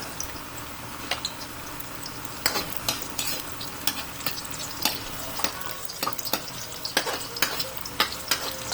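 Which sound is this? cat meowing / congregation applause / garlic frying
garlic frying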